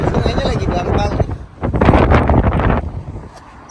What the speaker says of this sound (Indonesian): Berangin.